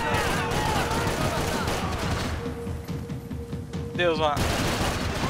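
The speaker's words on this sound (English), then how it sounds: "Até o cobrador tá atirando no Max." Sustained gunfire in Max Payne 3, a close dense fusillade of shots that briefly thins, then resumes, with someone speaking Portuguese over the shooting.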